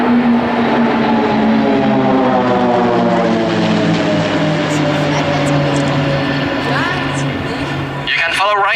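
Swiss Air Force Pilatus PC-7 propeller planes fly in formation at an airshow, a loud sustained propeller drone with shifting pitch as they pass, while a voice speaks over a loudspeaker.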